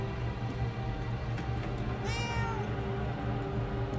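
Cat meowing in the Murdered: Soul Suspect video game, a single drawn-out rising-and-falling meow that stands out clearly over a steady game background hum.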